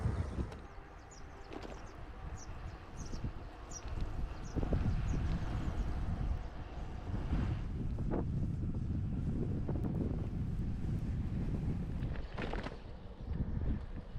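Wind while bike touring on flat coastal roads from Lisbon toward Setúbal, a continuous loud rumbling buffet across the microphone that swells and gusts, with faint rustling above it.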